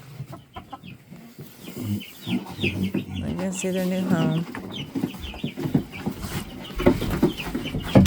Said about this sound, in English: So there's 3 buff Orpingtons and 2 Viking Icelandic chickens.